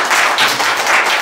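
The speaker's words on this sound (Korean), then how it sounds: "자, 박수." Dense, steady applause from an audience at a Yun Dong-ju literary arts festival event, loud and continuous throughout without any voices.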